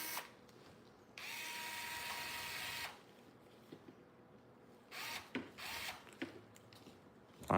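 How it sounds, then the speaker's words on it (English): A power drill or driver unscrews screws on a Sledge robot, giving a loud steady whir for about two seconds, then quieter clicks and short ratcheting bursts, ending in a sharp knock. "Unscrew the other side we didn't Loctite."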